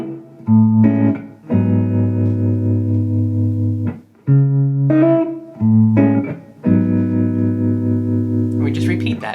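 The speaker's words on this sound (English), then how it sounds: "I do a little bit of an embellishment where I'm going to hammer on this E." Fingerstyle electric guitar in a 70s light jazz rock style plays sustained chord tones with a hammered-on E embellishment, in several separate phrases with short gaps and ringing notes. The guitar is heard alone and fairly close.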